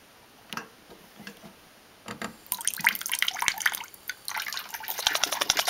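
Water drips and trickles with irregular clicking taps as a pet bird is offered a drink, starting sparse and faint, then becoming busier and louder in the second half.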